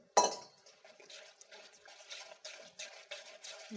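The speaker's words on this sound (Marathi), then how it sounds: "थोडंसं घट्ट असल्यामुळे मी थोडस पाणी ओतले" Water poured into a thick bajra (pearl millet) flour batter with coriander, giving a sharp splash at the start followed by a soft, steady trickle and light liquid stirring sounds, close and alone.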